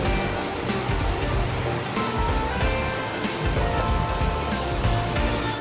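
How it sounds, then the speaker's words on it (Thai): A stream runs beside a glamping cafe in a mountain valley, giving a loud, steady broadband rush of flowing water with faint ticking on top and no voices. "ติดริมลำธาร"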